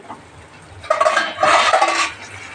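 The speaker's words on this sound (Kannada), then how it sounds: "ಲಿಡ್ ಕ್ಲೋಸ್ ಮಾಡ್ತಾ ಇದ್ದೀನಿ ಫ್ರೆಂಡ್ಸ್" A metal lid is set onto a cooking pan of softening tomatoes for hotel-style tomato gojju. Two clattering metallic bursts sound close by, the second longer with a ringing scrape, over a quiet kitchen background.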